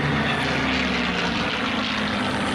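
A Hawker Sea Fury propeller fighter flies past at an airshow at La Ferté-Alais, its piston engine giving a loud, steady, continuous drone throughout.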